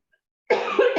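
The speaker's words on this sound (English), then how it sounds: "I've just got a little bit of a cough going on there." A person coughs in a short burst of about three harsh coughs, close and fairly loud, after a moment of silence.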